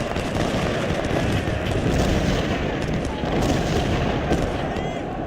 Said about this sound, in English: Getting our artillery.